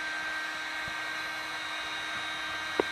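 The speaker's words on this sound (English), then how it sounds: "take the heat gun and you turn it on high, just hold it over that area for a few seconds" A heat gun running on high over PVC pipe gives a steady close whooshing blower hiss with a thin motor whine, holding constant throughout with a faint click near the end.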